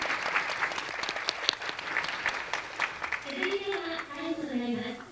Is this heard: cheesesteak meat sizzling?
no